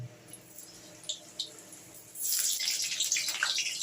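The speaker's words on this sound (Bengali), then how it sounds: "আমার কড়া গরম হয়ে গেছে আমি এখানে পরিমাণ মতো তেলটা দিয়ে দিলাম এবার আমি এক এক করে আলুগুলোকে ছেড়ে দেব" Whole potatoes are dropped into hot oil in a kadai: after a quiet stretch with a couple of small ticks, a sudden loud, steady sizzle and crackle breaks out close by and keeps going.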